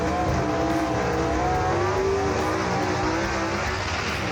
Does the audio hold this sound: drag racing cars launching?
yes